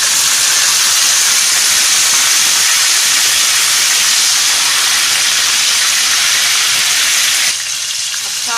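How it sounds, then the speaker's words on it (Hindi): Chicken pieces go into golden-brown fried onions in hot ghee, giving a loud, steady broadband sizzle and hiss that runs without pause, easing slightly near the end. "अब इसमें हम ये चिकन ऐड करते हैं।"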